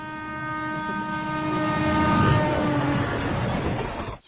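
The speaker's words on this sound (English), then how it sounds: "How fast the train is moving" Train rolling along tracks in the film NH10, with steady tonal horn-like harmonics over rumbling rail noise that builds slightly, then cuts off abruptly near the end.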